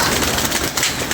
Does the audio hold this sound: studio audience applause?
no